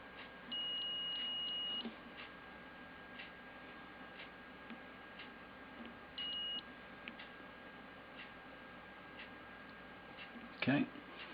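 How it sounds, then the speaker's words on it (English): Steady electronic beeps from a continuity tester probing the positive and negative terminals of a Mach 1 powertrain, two clear tones of about a second and half a second, near and distinct over low background hum and a brief clatter. "Negative to negative, and I should get a beep."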